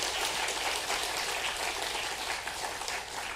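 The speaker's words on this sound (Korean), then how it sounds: "최영욱 목사님께 다시 한번 감사 박수 드리겠습니다" A church congregation at a Sunday worship service applauds in thanks, a dense, steady wash of many hands clapping together that stays loud and even throughout, with no voices over it.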